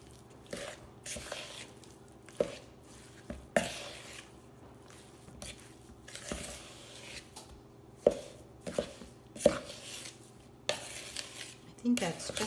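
Cherry pie dough stirred in a bowl to combine, heard as irregular close scraping and thudding strokes of a utensil with sharp clinks against the bowl, quiet between strokes and without talk.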